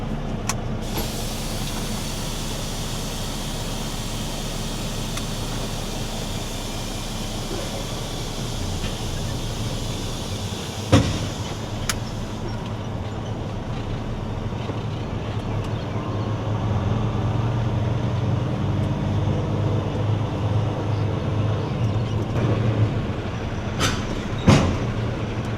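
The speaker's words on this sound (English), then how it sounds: "let's drop this trailer and connect to our empty." Semi truck idling steadily while dropping one trailer and hooking up to an empty one, a low constant engine rumble with a few sharp clunks and air bursts near the middle and end.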